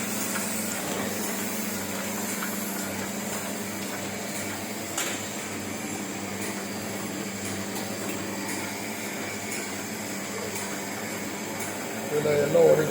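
A Ryobi 3302M multi-colour printing machine runs at speed, giving a steady, continuous mechanical hum and whir close by, with a slight rise in clatter near the end.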